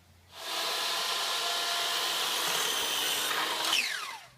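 A power saw rips through wood to cut end pieces for acoustic panels, a loud sustained whine starting abruptly, holding steady for several seconds, then winding down as the blade spins off, with no talking.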